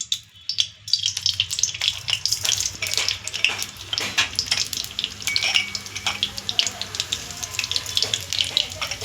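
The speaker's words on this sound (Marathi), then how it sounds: "जिरे मोहरी टाकूयात फोडणीसाठी" Cumin and mustard seeds hit hot oil for tempering while making spicy vermicelli upma, producing a loud, close burst of crackling and popping sizzle with sharp spits throughout, no talk over it.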